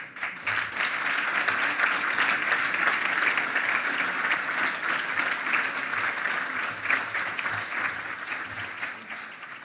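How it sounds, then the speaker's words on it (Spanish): Sustained audience applause at a Spanish energy awards ceremony, Premios de la Energía 2018, honoring Eugenio Mayol; dense, steady clapping from a large crowd for nearly ten seconds, fairly loud and continuous. "Un aplauso para Eugenio Mayol."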